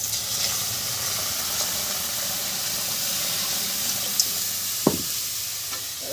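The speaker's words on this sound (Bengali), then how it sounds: "আর কাঁঠালকুটিটা ভিজায় রেখে দিচ্ছি, ডালটা মানে জল দিয়ে দেবো এখানে।" Water poured into a pot of lentils with jackfruit pieces, a steady close rushing hiss lasting throughout, with a couple of faint clinks near the end.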